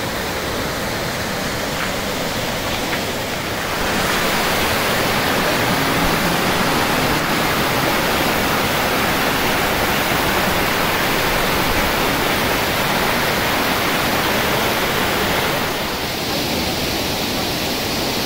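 Chitrabhi waterfall in Kabbinale during the monsoon, a steady heavy roar of falling water that holds constant for the whole stretch, close and loud.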